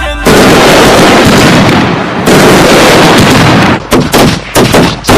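Firecrackers burst in a Diwali song, a dense, very loud crackling barrage of rapid pops and bangs, followed by a few separate sharp reports.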